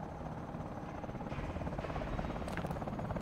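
A helicopter in the Call of Duty: Advanced Warfare video game, a steady low rotor thrum with rapid blade chop, holding loud and close throughout with no talk over it.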